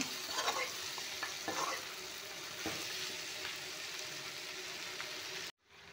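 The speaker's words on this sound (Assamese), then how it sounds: "অলপমান ভাজি লওঁ মাংসখিনি" Local chicken meat frying with masala in a pan for a chicken curry, a soft continuous sizzle with occasional stirring clatter, fairly quiet and alone, cutting off abruptly at the end.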